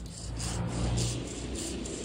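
A hand saw cuts through an apple tree branch with steady back-and-forth rasping strokes, about four per second, close and moderately loud, with no talking.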